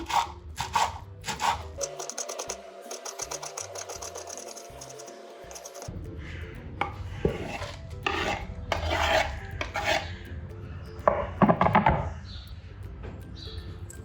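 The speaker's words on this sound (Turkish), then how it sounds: "Yarım demet maydanozun saplarını temizledim. Olabildiğince ince ince kıyıyorum." Half a bunch of parsley, stems removed, finely chopped with a knife: quick irregular taps and scraping on a board, close up, with some rubbing and rustling between bursts.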